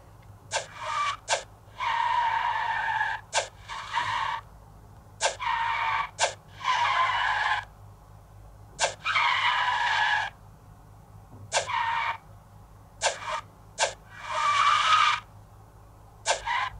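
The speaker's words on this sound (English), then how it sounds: "There we have cool drifts." Tyres screech in a car parking and driving video game as a car drifts, in repeated loud squeals of a second or two each, broken by short sharp bursts, over a steady low engine drone.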